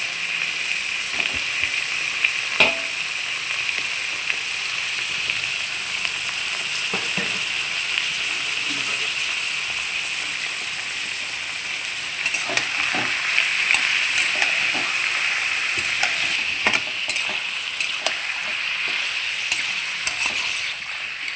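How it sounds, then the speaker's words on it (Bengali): Chicken meat frying with onions in a pan for a spicy curry, a steady bright sizzle with intermittent stirring clatters, close and continuous with no voices. "আমি পেঁয়াজের সঙ্গে মাংসটা খুব সুন্দর করে ভেজে নিব"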